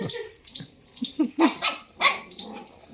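A dog at a rural Gujarati home lets out a quick series of short, sharp barks and yips, close by and fairly loud, with brief gaps between them.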